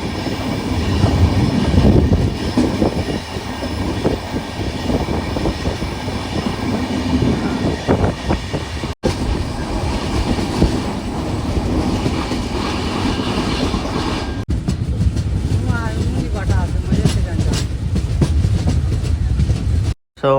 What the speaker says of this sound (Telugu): మన ట్రైన్ అయితే తిరుపతి నుంచి బయలుదేరి రేణిగుంటకి అయితే వచ్చింటుంది